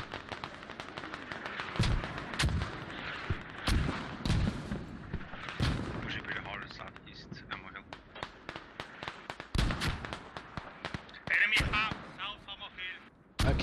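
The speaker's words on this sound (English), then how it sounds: "they're very heavy on the mortars now" Repeated heavy mortar blasts from a Squad match on the Fools Road map boom in irregular bursts, some near and loud, some more distant, under steady commentator talk.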